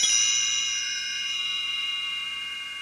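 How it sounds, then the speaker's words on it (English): Bright chimes ring once to signal a page turn in a read-along storybook, a clear metallic strike followed by a long shimmering decay, heard alone without speech. "You will know it is time to turn the page when you hear the chimes ring,"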